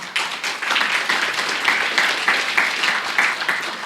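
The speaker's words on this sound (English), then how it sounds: "our India team deserve a bit of applause for a fantastic effort" Audience applause for a team at a business event fills the space, a steady crackle of many hands clapping at moderate loudness with no speech over it.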